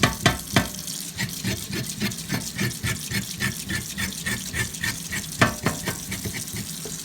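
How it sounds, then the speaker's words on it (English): A carrot's outer skin being scraped off with a knife, a rapid, steady series of short rasping strokes, close and clear, with a few louder scrapes near the start and end and no talk. "You see, scrape off all that. The outside skin off the carrot."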